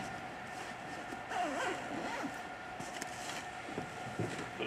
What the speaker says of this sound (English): Zip up your net.